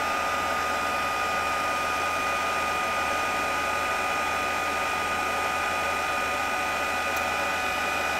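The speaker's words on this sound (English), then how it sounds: "Even the heat gun doesn't want to heat up." A heat gun runs continuously at a steady level, heating embossing on a greeting card for an otter Valentine postcard at a craft table. The dense, even whir holds on its own for several seconds with no talk.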